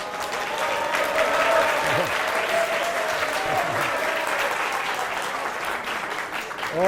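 Audience applause at a 2019 award lecture, a dense, steady round of clapping that fills the whole stretch at even loudness, with faint voices now and then underneath.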